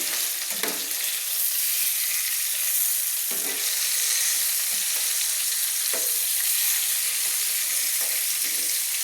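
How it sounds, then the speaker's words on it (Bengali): Tilapia and koi fish fry in oil in a pan, making a loud, continuous sizzle broken by a few soft knocks as the pieces are turned, with no talking. "তেলাপিয়া কই মাছগুলো আমার ভাজা হয়ে গেছে"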